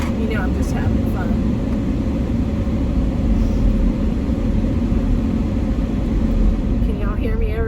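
Loud steady roar of a fan blowing inside a car, a dense unbroken broadband rush with deep low-end rumble that stays constant throughout and dominates the space.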